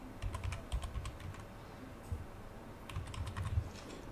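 A password is typed on a computer keyboard as quick, light clicks in two short bursts with a brief pause between, quiet and close with no talk.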